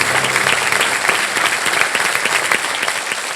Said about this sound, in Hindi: तालियों के साथ हम चाहेंगे कि उनका स्वागत हो।